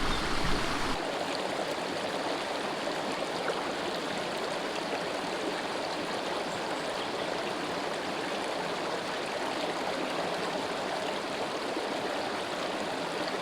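A river runs beneath a bridge in the Clue du Riolan gorge, a steady broadband rush of flowing water that holds constant and fairly loud for the whole stretch, with no voices over it.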